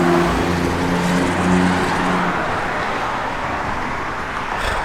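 A 1967 Chevrolet Camaro RS with a 350 V8, double hump heads and a Holley Dominator aluminum intake with a dual-feed four-barrel idles steadily nearby, giving a low, continuous rumble with a brief swell near the start.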